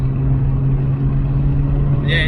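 Mazda RX-8 fitted with a sports exhaust drives along, heard from inside the cabin as a steady low engine drone with a window slightly down, continuous and fairly loud.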